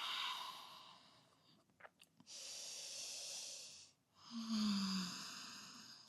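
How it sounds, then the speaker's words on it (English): Slow, deep breathing in downward facing dog during a vinyasa yoga flow: two long airy breaths close to the mic, separated by a short pause, with light mouth and nose sounds. "Take 3 breaths here in down dog."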